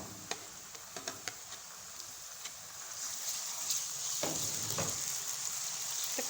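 Onions and ginger garlic paste sizzle in a pan, a soft, steady frying hiss with scattered light taps and clicks from stirring, growing a little fuller partway through.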